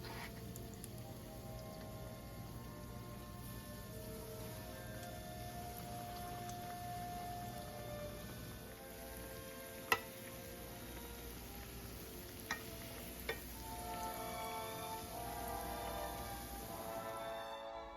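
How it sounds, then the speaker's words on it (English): Scoops of donut batter frying in hot sunflower oil, a steady soft sizzle and bubbling throughout with a few small clicks and taps, no talking. "carefully add a couple scoops of batter into the frying oil and fry them for about 1 to 2"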